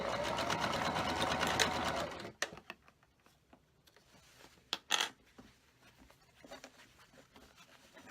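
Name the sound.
sewing machine stitching quilt block scrap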